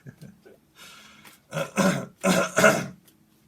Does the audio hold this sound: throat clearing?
yes